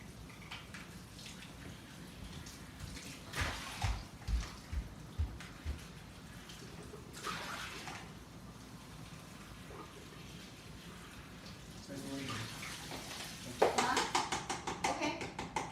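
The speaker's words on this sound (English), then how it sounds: "I'm gonna just quickly rinse this" Vegetables being rinsed under running tap water in a kitchen while making a tuna salad sandwich, a steady splashing hiss of the tap with some handling noise of the produce, fairly close, with a few bursts of talk.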